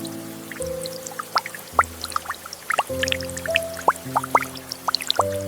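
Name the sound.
water cascading over fresh bananas in a washing system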